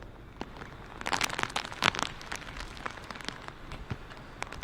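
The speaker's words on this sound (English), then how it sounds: "right now it's raining quite heavily, and also strong wind gusts that are coming in" Heavy rain lashes down outdoors ahead of a cyclone's landfall, with strong wind gusts; a dense, crackling patter of drops with louder bursts of spatter, steady and close throughout.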